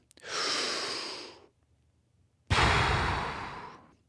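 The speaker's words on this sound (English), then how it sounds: "let's take a deep breath together" Two deep breaths taken during a singing lesson on diaphragm breathing: a long, airy inhale of about a second and a half, a pause, then a strong, close exhale of similar length, with no talking.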